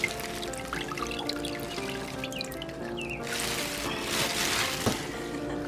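Ginger pulp is squeezed by hand and juice trickles and splashes out, a soft wet dribble that swells into a brighter pouring trickle partway through, close and fairly quiet.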